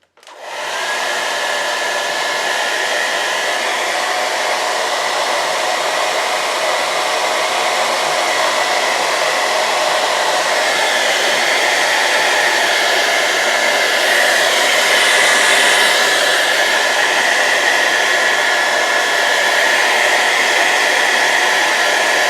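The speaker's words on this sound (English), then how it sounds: "All right, now let's get that blow dryer out." A blow dryer runs steadily and loudly for the whole stretch, a constant broadband whoosh with no pauses, used to dry acrylic paint on a Valentine's gnome painting.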